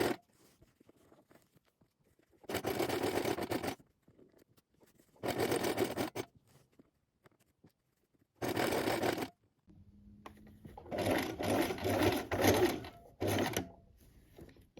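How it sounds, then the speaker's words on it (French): A sewing machine runs a holding stitch along a zip in short sharp bursts: three separate runs of about a second each with quiet pauses between, then a longer, more uneven stretch of stitching up close. "Et vous cousez donc la piqûre de maintien jusque l'arrêt de votre zip."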